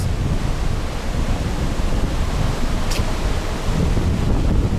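A steady, broad roar of sea surf, heard from a ferry between Denmark and Iceland, like waves washing continuously nearby, mixed with wind rumble and no talking.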